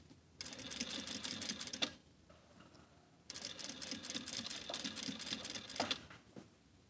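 A sewing machine hemming a sequined dress, running in two long bursts of rapid, steady needle stitching with a short quiet pause between them, close and fairly soft.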